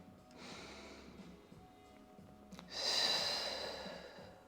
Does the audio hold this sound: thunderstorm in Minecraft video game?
no